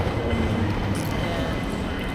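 An airport people-mover train runs inside the terminal at Hong Kong airport, a steady close rumble and rolling hum that continues throughout.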